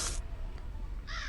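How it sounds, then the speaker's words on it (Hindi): A crow caws in the Granny horror video game, with one harsh caw at the very start and a second near the end, both close and loud over a low ambient rumble. "अब यहाँ है कौवा"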